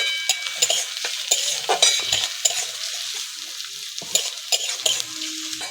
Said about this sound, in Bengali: হালকা করে ভেজে নিয়েছি।